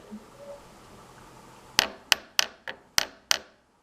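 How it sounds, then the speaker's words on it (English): Six sharp metallic taps from a hammer on a lathe tailstock in an even, quick rhythm, close and ringing briefly, after a quiet stretch. "take a hammer here and just tap this a little bit"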